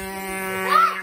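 A voice imitates a speedboat engine in a swimming pool with a sustained buzzing drone that rises in pitch near the end, close and fairly loud.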